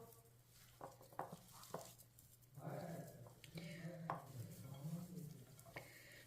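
A spoon stirs and mixes ground spices such as turmeric, coriander and cumin for aloo tikki, with light scraping clicks in a pan, followed by a voice talking over the stirring.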